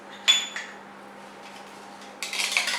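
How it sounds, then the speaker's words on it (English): Mini whisk beating a roti dough mixture in a bowl, a sharp metallic clink at the start followed by faint soft stirring, then a burst of rapid scratchy whisking at the end. "a good whisk with a mini whisker"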